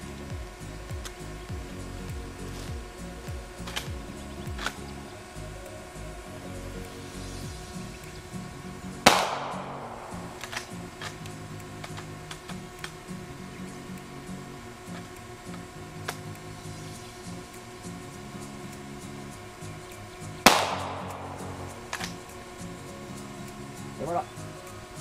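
Two loud, sharp rifle reports from a Rossi rifle firing reloaded .44 Special cartridges, spaced about eleven seconds apart over a steady background hum, with a fainter click near the end.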